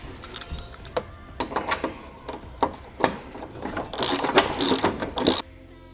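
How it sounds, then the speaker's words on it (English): A ratchet with a deep 13mm socket turns bolts on a Can-Am Defender scrub bar, giving rapid clicking pawl bursts in irregular sets, close up, with louder fast clatters near the end. "you'll need a deep 13mm socket"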